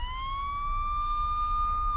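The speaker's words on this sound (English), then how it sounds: "approaching sirens, piercing the air with their incessant wailing" Police car siren wailing in a single long, steady rising tone, loud and close over a low rumble of street traffic.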